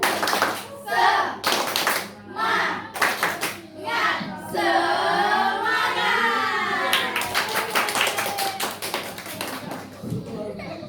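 A classroom of pupils performs a rhythmic clap routine, with sharp patterned hand claps in bursts alternating with chanted voices, ending in a quick run of claps.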